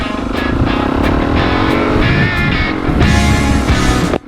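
A Suzuki DRZ400 dual-sport motorcycle riding, a loud, close engine drone that shifts pitch as it revs up and down, with a rising surge near the end before it cuts off sharply.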